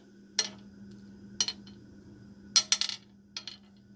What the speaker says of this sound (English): I'm going to put them down on the hot pan first.